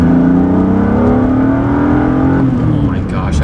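A BMW E36 M3 pulling hard under acceleration, a loud close engine drone rising steadily in pitch and then dipping as a gear change comes near the end, heard from inside the car.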